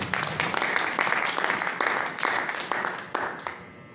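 A church congregation applauding together, a dense burst of clapping with a few louder accented claps, fairly close and fading out near the end.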